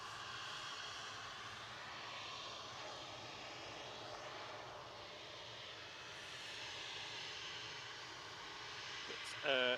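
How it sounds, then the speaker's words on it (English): A TUI airliner on approach to Manchester Airport from Punta Cana, giving a faint, steady jet drone that hums on evenly, with a brief louder burst right at the end. "Tui from, I think, Punta Cana on approach."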